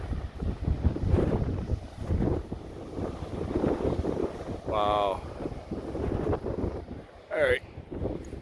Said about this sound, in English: It's getting windy right here.